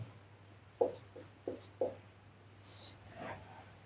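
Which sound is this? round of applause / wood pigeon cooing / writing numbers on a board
writing numbers on a board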